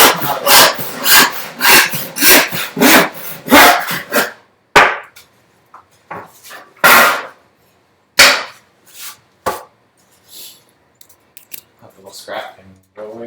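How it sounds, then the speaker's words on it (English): A small scrap piece is cut off the end of a wooden board with quick, rhythmic strokes, loud and close, then a few scattered knocks and clatters as the offcut comes free. "let me cut this little bit of scrap off this other side here"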